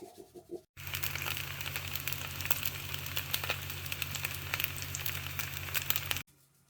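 White pudding fries in a pan with a steady crackling sizzle and dense pops that start abruptly, continue evenly for several seconds, then cut off, with no voices over it.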